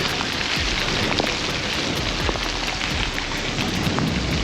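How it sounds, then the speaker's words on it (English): Heavy rain pours down in a dense, steady roar during a gravel cycling ride in a storm, loud and unbroken throughout. "The rain was coming down so hard that it was impossible to see."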